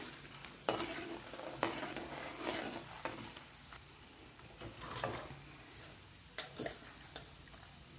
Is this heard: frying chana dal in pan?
yes